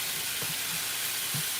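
Bacon sizzles and fries in a pan with a steady, broad hiss, with a couple of brief louder pops near the start and end; no voices.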